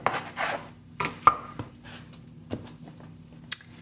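A knife presses through a log of Pfeffernüsse cookie dough on a board, giving a few soft separate thuds and knocks spaced about a second apart, close and fairly quiet with faint rubbing between.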